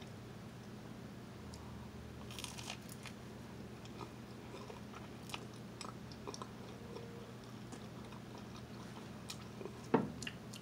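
Close, quiet chewing of croissants with cream cheese during a mukbang, with soft moist bites and smacks repeating over a steady low hum and no talking.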